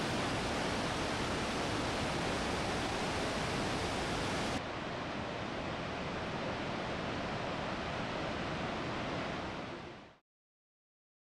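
Dettifoss waterfall in an Icelandic river gorge roaring as a dense, steady broadband rush of falling water, loud and unbroken for about ten seconds before cutting to silence.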